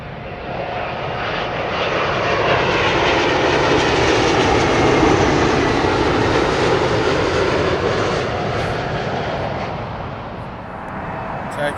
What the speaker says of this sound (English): It's a British Airways Boeing 777-200, and that is coming in from Chicago.